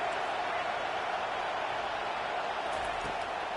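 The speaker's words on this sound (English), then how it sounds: "decibels rising as the crowd gets behind this defense on third down" Stadium crowd in College Football 25 during a Colorado vs Florida game, a dense, steady roar of many voices that stays loud and unbroken from start to finish.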